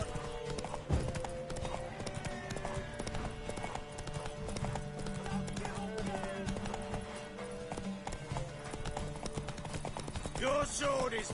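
Rapid, steady clip-clop of galloping hooves during a horse race in The Witcher 3: Wild Hunt runs throughout over busy game music and effects, with a brief horse whinny near the end.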